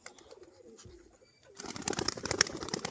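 Domestic pet pigeons in a loft cooing, faint and close at first, then a busier flutter of coos, shuffling and ticking movement takes over midway.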